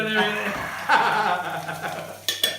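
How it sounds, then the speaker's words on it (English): Rice stirred around in a hot pan for a chilli duck salad, with steady close sizzling and frying plus soft scraping from the stirring, while a voice talks over it. "And we're going to stir all that around."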